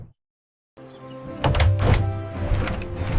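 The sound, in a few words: magic door opening in animated story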